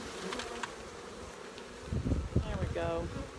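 Honeybees buzz on a brood frame of a queenless hive with bees about to hatch, a soft steady hum that swells in the second half with a few louder passes near the microphone, with faint handling noise beneath.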